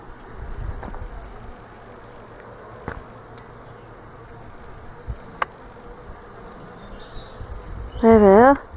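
Bees humming steadily around a nest in a quiet churchyard on a warm day, a low continuous drone with a brief louder burst near the end.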